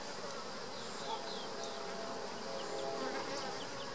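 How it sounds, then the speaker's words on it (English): Honey bees buzz from an opened hive during a hive split inspection, a dense, steady drone up close with individual bees whining past now and then, no talking over it. "So it's very likely going to get interesting here in a minute when all these bees come out here."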